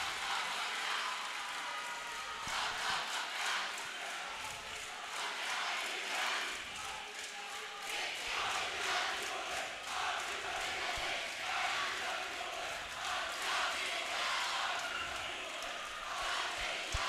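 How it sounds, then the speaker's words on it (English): High school basketball cheering sections roar in a gym during a tight late-game moment between Archbishop Mitty and Bellarmine, a sustained wash of crowd noise with rising and falling swells of yelling. "Both cheering sections getting extremely loud, trying to will their team to victory"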